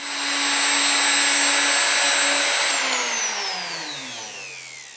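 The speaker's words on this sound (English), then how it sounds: "I'm actually shaving the wood off on top of the glue." A wood router shaves wood across a glued seam of two boards while shaping a bowl, a loud steady high whine that holds for a few seconds, then winds down with falling pitch as the motor spins to a stop.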